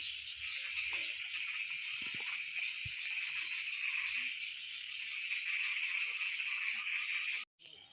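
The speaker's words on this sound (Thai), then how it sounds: "เสียงเขียดตอก" A dense, steady chorus of small frogs trilling on a rainy night in Laos, continuous and fairly loud, cutting off abruptly near the end.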